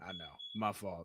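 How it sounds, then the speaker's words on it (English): A smoke alarm with a low battery lets out one short, high chirp in a brief gap between a man's speech, with talking before and after it. "That's the smoke alarm."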